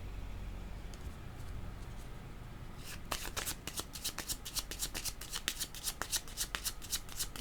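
Oracle cards being shuffled by hand, a steady run of quick papery riffles and flicks that starts about three seconds in after quiet room tone and continues close and fairly soft to the end.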